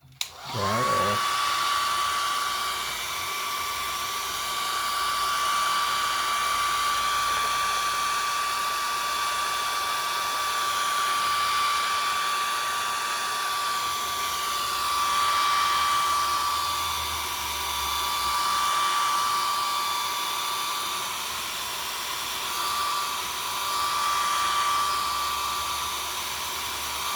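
A hair dryer blows steadily and loudly for nearly half a minute, drying something off, with a sustained whine that wavers slightly in intensity and no talking.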